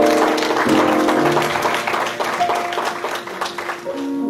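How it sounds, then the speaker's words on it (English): Applause from a congregation at a funeral service, a steady dense wash of hand claps that fades a little toward the end, with a sustained musical tone underneath. "give Keith, Kimo, and God a warm praise hand clap."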